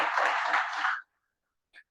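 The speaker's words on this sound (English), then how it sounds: "can you have a big round of applause for them?" Applause for two new Toastmasters club members at a meeting: about a second of dense clapping from a small group that stops abruptly, then one faint clap.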